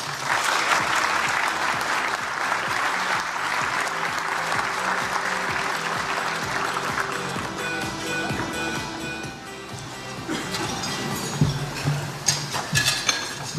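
A luncheon audience at the Empire Club of Canada applauds steadily as the Energy Minister comes to the podium, a dense, sustained wash of clapping from a large crowd that thins slightly toward the end.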